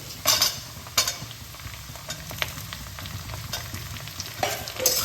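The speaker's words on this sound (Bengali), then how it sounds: "আলুটাকেও ভালোভাবে ফোড়নের মধ্যে একটু ভেজে নেব" Cut potato pieces frying in a hot spice tempering for Bengali-style kolmi saag, a steady close sizzle with a few sharp spoon scrapes and clinks from stirring, no voices.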